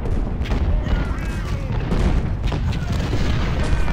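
Cannon fire booms in a Civil War battle in the strategy game Ultimate General: Civil War, with repeated deep artillery blasts and rumble rolling under a continuous battle din.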